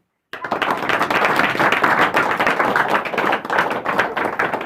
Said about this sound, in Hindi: आप सभी लोग इस गवाही के लिए ज़्यादा जोर ताली बजाएं।